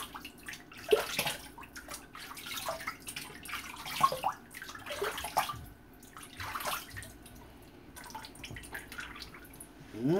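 Water from a tap splashes and drips while a razor is rinsed during a live wet shave, irregular bursts of splashing close by with quiet gaps between them.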